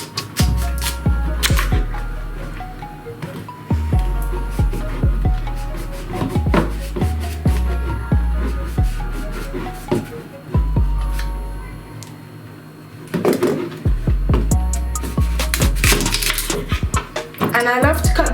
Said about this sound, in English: The first thing you want to do is cut the end because you don't need them.